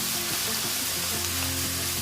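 Vegetables sizzle steadily as they are stir-fried in a pan for chicken fried rice, a dense continuous frying hiss with low scraping undertones, close and fairly loud throughout with no voices.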